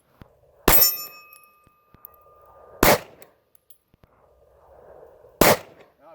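Three sharp, loud 9mm shots from a Sig P365 compact pistol fired one-handed with the weak hand, spaced a couple of seconds apart, each with a brief ringing tail and quiet pauses between.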